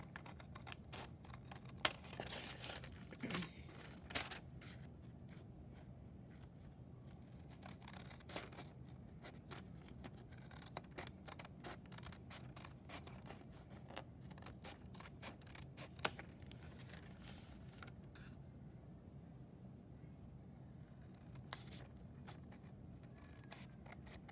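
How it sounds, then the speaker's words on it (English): Scissors snip steadily through paper, trimming white edges for a 4th-grade stained-glass craft, giving many quiet, close clicks over a soft room hiss with no talking. "So we're going to take our scissors and just get right up to the edge there."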